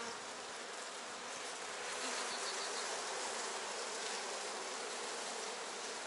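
Honeybees swarm over a hive frame with a dense, steady buzz that holds close and even throughout, no voices over it.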